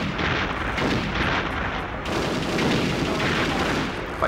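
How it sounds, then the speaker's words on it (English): Super Dragon grenade launcher secondary fire in the shooter game Perfect Dark, dense continuous booming blasts and gunfire filling the whole stretch, loud and steady with a heavier burst partway through. "time to show off the secondary function of the Super Dragon."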